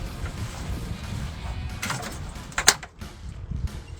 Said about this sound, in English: we're going to be popping these clips for this trim